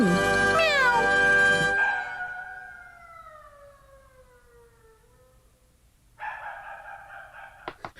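A long drawn-out cat meow from the Ninja Hattori cartoon that slides downward and fades, followed by a short burst of sharper sounds.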